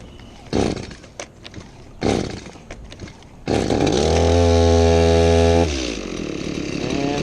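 Stihl MS180 chainsaw cranking on half choke after two weeks idle, with a few short pull-start bursts, then the engine catches and runs loudly and steadily close by, dropping to a lower idle at the end.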